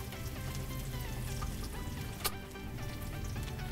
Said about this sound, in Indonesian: Kita sangrai, kita tumis sampai dia mengeluarkan harum